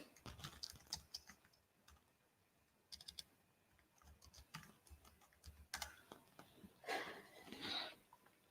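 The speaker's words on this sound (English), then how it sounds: "let me type it out here" Fingers type on a computer keyboard in a quiet indoor space, with soft, uneven bursts of key clicks that pause and restart, and a denser flurry near the end.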